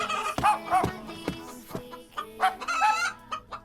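A cartoon rooster clucks loudly and close, a run of sharp, repeated clucks and squawks with brief pauses, nearly alone over a faint background.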